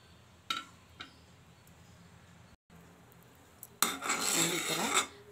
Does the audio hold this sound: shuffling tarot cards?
no